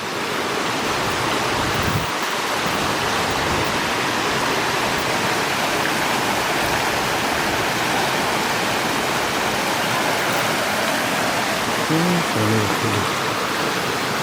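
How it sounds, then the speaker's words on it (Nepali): A forest stream flows down from the hills near a trout-fishing spot, making a steady, full rushing wash of water that stays loud and constant throughout with no voices. "जङ्गलै यताबाट एउटा खोला आएको छ माथिबाट"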